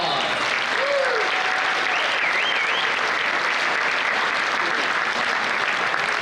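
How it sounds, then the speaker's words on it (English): Sustained audience applause at a charity comedy benefit event, loud and continuous, with a few whoops and cheers rising over the clapping. "Round of applause."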